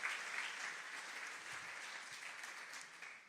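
A church congregation applauds steadily for a few seconds, a dense, fairly faint clapping that stays even without pause.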